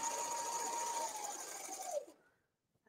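A sewing machine stitches a garment's shoulder seam, a close steady whirring hum that runs for about two seconds, then winds down and stops into quiet.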